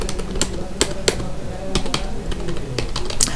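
Rapid clicking keystrokes on a computer keyboard, with scattered sharp taps and short bursts, as Excel keyboard shortcuts like Alt+Enter are entered into a cell; close and fairly loud against a low background murmur.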